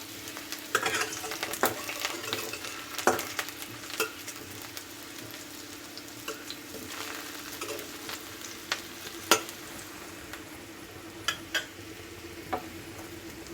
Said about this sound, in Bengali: আমি ফুলকপিটাও ভাজবো কিন্তু আলুটা একটু আগে দিয়ে দিচ্ছি আলুটা একটু ভালোভাবে ভাজা না হলে ভালো লাগে না